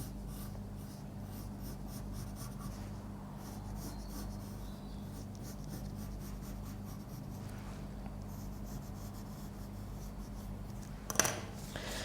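Pen strokes scratching lines around a hand template on card, a continuous soft scratching and rubbing close up over faint room hum, with one brief sharper tap near the end.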